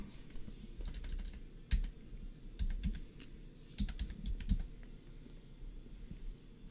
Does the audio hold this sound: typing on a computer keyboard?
yes